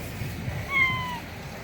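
A house cat gives a single short, rising meow, fairly faint and close, against quiet indoor background with no talking.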